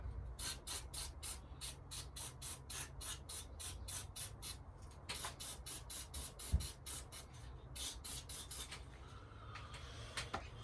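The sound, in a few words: aerosol spray hissing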